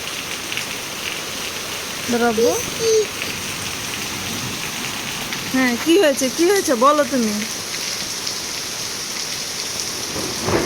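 Daytime rain in hot weather falls as a steady hiss with possible distant thunder, while several people talk briefly in the foreground.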